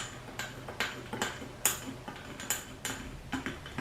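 A spoon knocks and scrapes against a big jug while stirring a frothy gingerbread mixture, giving about a dozen sharp, fairly close clinks at an irregular rhythm, with no talking.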